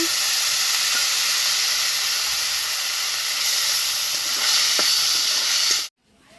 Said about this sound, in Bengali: মশলা আমি আগে থেকে দিয়ে রেখেছি, এবার ভেজে নেব।